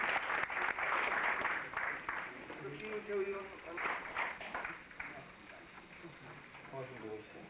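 At an academic conference marking an 80th anniversary, an audience applauds the author of a biography. Brisk, fairly close clapping is strongest at first, then thins out, and voices talk over it in the second half.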